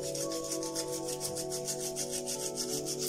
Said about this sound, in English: So you're going to continue rubbing like this for approximately 5 minutes.